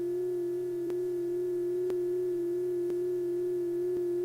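A steady pure tone from a moving source, its pitch shifted by the Doppler effect, holds clear and constant while faint regular clicks tick about once a second underneath. No one speaks.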